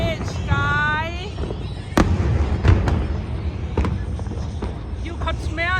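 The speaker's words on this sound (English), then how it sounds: "we could smell the burning of the fireworks so close under the Brooklyn Bridge" Fourth of July fireworks close under the Brooklyn Bridge, with sharp repeated bangs and crackling pops over steady crowd noise, whistling launches rising at the start and end, and people talking nearby.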